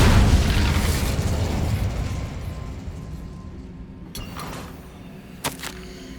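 Incendio fire spell cast in the game Hogwarts Legacy: a loud burst of fiery whooshing rumble that swells at the start and slowly fades, followed by a couple of sharp pops.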